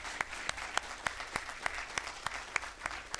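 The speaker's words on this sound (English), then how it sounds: "Can we give our mayor a welcome back applause?" A council meeting audience in Downey claps steadily to welcome the mayor back, with distinct individual claps in an even rhythm. The sound is moderately close and sits over a faint room murmur.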